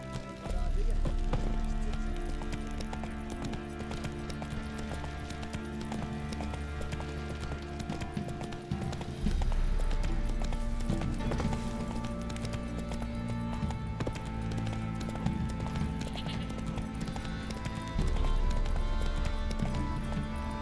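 Hooves of Roach, a horse in The Witcher 3, clop in a steady gallop throughout, set under a continuous low musical drone; someone speaks briefly over it.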